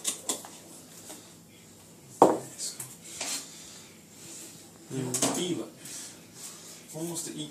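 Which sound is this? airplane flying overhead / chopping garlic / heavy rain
chopping garlic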